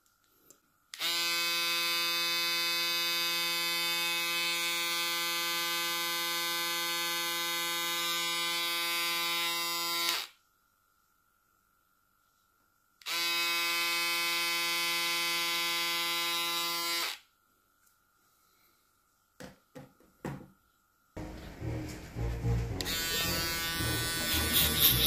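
A Stylecraft Rebel electric shaver runs with a loud, steady high-pitched buzz in two long bursts separated by a pause, followed by a few faint clicks and then a rougher, noisier motor burst at the end.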